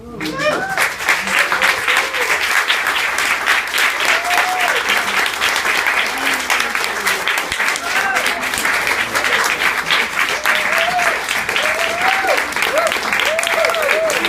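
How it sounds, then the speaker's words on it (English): An audience stands and applauds after a poetry reading. The clapping is loud, sustained and dense, with faint voices and calls rising now and then beneath it. "Standing applause."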